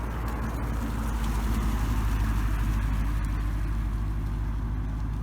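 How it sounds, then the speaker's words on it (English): Car traffic passes along a road beside an outdoor walking path in autumn, a steady close engine rumble and tire roar that holds throughout without a break. "Oh, traffic."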